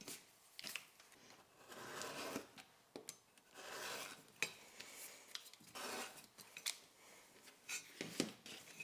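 A blade trims leather around the inner panel of a vertical bifold wallet, giving repeated rasping, scraping cuts in uneven bursts with brief pauses between strokes, close and fairly quiet.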